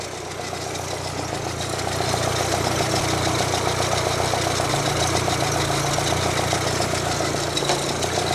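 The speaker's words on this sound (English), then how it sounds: "Idle speed's a little on the low side" An engine with a freshly rebuilt carburetor idles steadily and low, a continuous mid-loud rumble that steps up slightly in level partway through as the idle is raised, with no talking.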